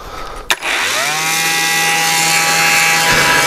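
After a sharp click, an Interskol KombiMax electric blower-vacuum spins up into a loud, steady high-pitched whine and keeps running close by.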